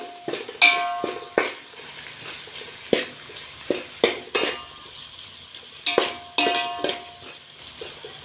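Onions and chillies fry in a pan for rice noodles, a steady sizzle broken by repeated sharp clinks and scrapes of a metal utensil against the pan, close up, with no talk.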